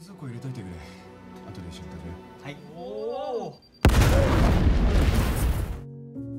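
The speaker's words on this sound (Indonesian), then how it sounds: "Ledakan ini akhirnya membuat semua teman Sadakuni meninggal" A sudden loud bomb blast bursts in after dramatic music in a film, a broad roaring explosion that rumbles on for a couple of seconds before cutting off.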